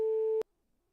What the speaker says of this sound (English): So I call him, her, they up, and I just get ringtones.